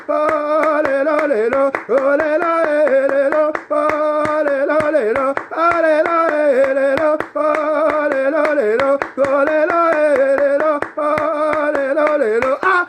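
A worship congregation claps steadily in rhythm while singing praise to Jesus, sharp regular hand claps running under a loud sustained sung melody throughout.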